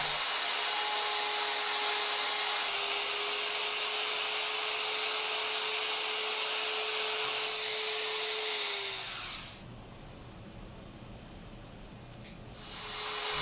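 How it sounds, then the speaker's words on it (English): A router fitted with a 17mm guide bushing cuts an inlay pocket in wood, giving a loud, steady, high-pitched whine with hissing cut noise, then a short drop to a quieter spin-down before the whine rises again. "cut out the inlay pocket utilizing the 17mm bushing on your router"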